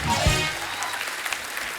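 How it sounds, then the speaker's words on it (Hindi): A studio audience at a stand-up comedy show applauds, a brief burst of dense clapping that is loud at first and then eases. "जोरदार तालियां हो जाएं हमारे चारों धुरंधरों के लिए।"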